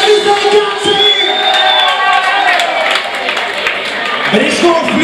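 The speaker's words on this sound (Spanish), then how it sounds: "un aplauso para Juan" A crowd at a rock show cheers and shouts loudly for a Kiss guitarist, a brief burst of whoops and applause with a voice calling out over it.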